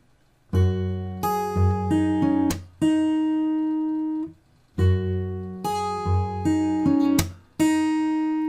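Acoustic guitar playing measure 53 of a fingerstyle arrangement, with plucked notes and open strings ringing out, a sharp percussive slap on the body, then the same phrase repeated, close and clear without talk.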